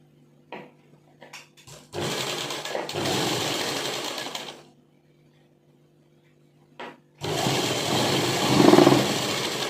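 A sewing machine stitches a pocket into a salwar, running in two long bursts with short taps and pauses between them, loud and close.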